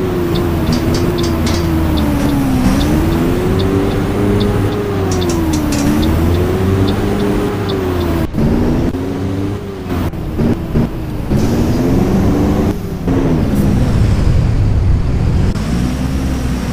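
Caio Apache Vip IV bus on a Mercedes-Benz OF-1721 chassis riding a city route in Fortaleza, its engine a loud steady drone rising and falling with gear changes, with rattling cabin noise and no voices.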